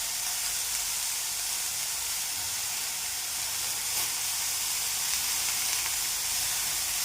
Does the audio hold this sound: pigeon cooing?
no